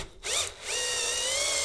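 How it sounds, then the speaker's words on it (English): A cordless power driver from a Milwaukee M12 versus Festool CXS comparison strips square head screws, giving a loud whirring spin that drops off briefly, then settles into a steady high whine with no talk. "And that's these square head screws stripping."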